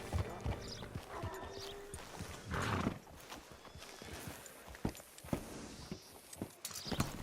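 Horse hooves in Red Dead Redemption 2 clip-clop at a walking pace on hard ground, close by, with a short snort and a few clattering sounds.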